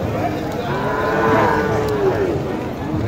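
Cattle low and moo repeatedly at a busy market where Sahiwal bull calves are for sale, the calls loud and near over steady crowd hubbub.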